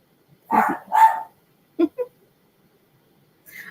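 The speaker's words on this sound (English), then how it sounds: "I feel like we're going to have the barking through the whole." A dog barks twice in close succession, then gives two shorter yips, followed by the start of another bark, fairly near and alone.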